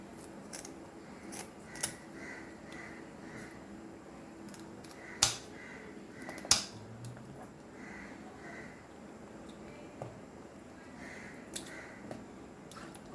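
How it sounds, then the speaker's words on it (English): Scissors snip through the tails of a hilsa fish during cleaning for a Goan fry, a series of short, sharp clicks spaced a few seconds apart, close and fairly quiet over a soft room background. "please cut the tails also."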